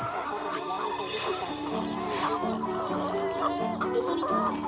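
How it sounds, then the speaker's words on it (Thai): Several laying hens, domestic chickens, cluck and chatter nearby in short, repeated bursts, with background noise and a faint voice now and then. "นี่เป็นไก่บ้านนะครับ ไก่บ้าน นี่เป็นไก่ไข่นะครับ"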